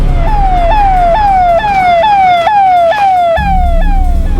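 An ambulance siren wails loud and close in rapid, repeating rising-and-falling sweeps, about two per second, continuous throughout over a low rumble of traffic.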